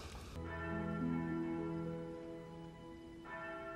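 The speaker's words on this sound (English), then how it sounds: "But they summon Zorro by ringing the bell 5 times" Bell ringing in a film scene, a sustained resonant metallic tone with a second strike near the end, moderately loud and alone.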